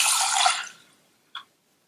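Water rinsing moong dal in a pressure cooker, a short rushing splash that fades out within a second, followed by one brief drip or slosh, close up and alone.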